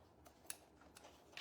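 Scissors snip through a small piece of lace during an Easter wall hanging craft, giving a few faint clicks and then one louder, closer cut at the end in a quiet room.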